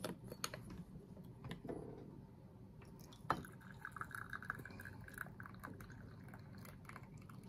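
Oolong tea pours into a vessel as a quiet, trickling stream with light drips and small clicks, near and soft against faint room noise.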